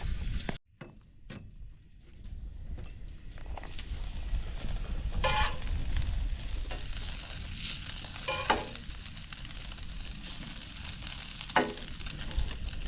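Thick bacon and small potatoes fry on a camp stove outdoors, a steady close sizzle with occasional stirring scrapes and a few sharp knocks.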